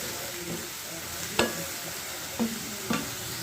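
Sliced onions sautéing in a pan, a continuous soft sizzle with a few sharp scrapes and clinks of a stirring utensil, close and without speech.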